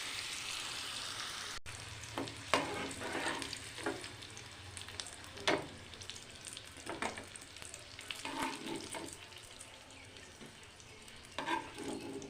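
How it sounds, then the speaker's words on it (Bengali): Pumpkin slices coated in salt and turmeric fry in hot oil in a home kitchen, giving a soft, steady sizzle broken by crackles and the occasional stir, with no talking. "নুন আর হলুদ লাগিয়ে ভাজা করে নিচ্ছি।"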